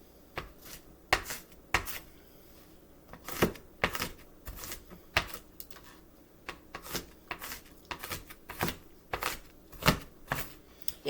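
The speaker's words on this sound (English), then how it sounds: "take my knife and just mince it up" A knife mincing food on a cutting board, with quick irregular taps in short rapid bursts, close and crisp, with no talking.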